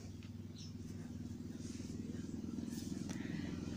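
A motorcycle engine drones faintly in the distance, its steady rumble growing slightly louder as it passes.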